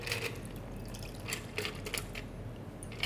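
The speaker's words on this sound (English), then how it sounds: "you pour it into your ice cold glass" A chilled dry gin martini is poured through a Hawthorne strainer and a tea strainer into an ice-cold glass, with faint trickling, dripping and small splashes at low volume.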